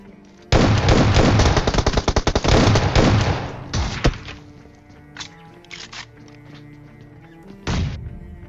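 Shotgun fire in the mobile game PUBG, a rapid burst of loud overlapping blasts in the first few seconds, then scattered single shots and a final late bang.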